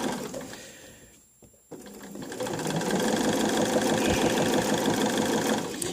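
Sewing machine stitches a wavy crosshatch quilting line, its needle running in a fast steady mechanical chatter that pauses briefly, restarts, and builds to a continuous close hum.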